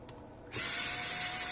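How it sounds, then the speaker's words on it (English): A small screwdriver, apparently powered, backs out the remaining screws from an iPad 5 during a screen digitizer replacement, starting after a brief quiet moment as a steady, close whirring hum that runs on without pause. "we're just gonna remove the remaining 3 screws"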